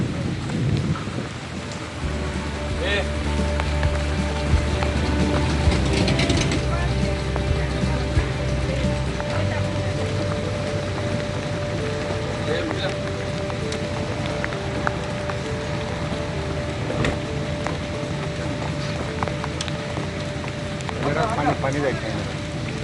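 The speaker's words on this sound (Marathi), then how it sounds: "थोडी रिमझिम होत होती." Rain patters and hisses steadily around a speedboat cruising through an island creek in the Andaman Islands, with a low engine rumble early on and voices speaking over the wet wash of sound.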